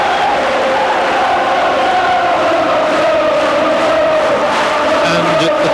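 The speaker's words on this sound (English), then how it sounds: "the Celtic players applaud their own fans, and they in turn applaud back." Football crowd at Celtic Park (Parkhead) in a Celtic v Liverpool match, applauding the Celtic players with a steady, dense wash of clapping and cheering that carries on throughout at moderate loudness.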